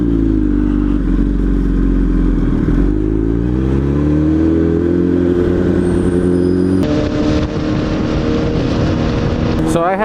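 Kawasaki ZX-10R sport motorcycle on the road, recorded on a GoPro HERO5 Black, with a loud steady engine drone and shifting revs under heavy wind rush throughout.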